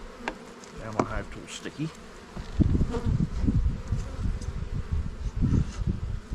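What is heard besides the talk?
honey bees buzzing during apiary inspection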